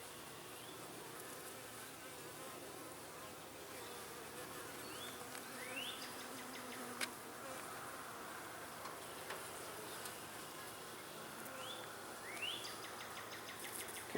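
Honeybees drone in a steady, dense buzz while a hive is inspected without smoke, the colony calm with the odd bee lifting off close by; faint bird chirps sound in the background.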